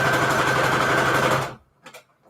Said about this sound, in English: we're just going to sew down the middle of